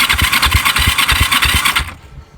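A Kawasaki EN450 bobber motorcycle engine cranking loudly and close, with a fast rhythmic chugging of about a dozen beats that fails to catch and cuts off abruptly.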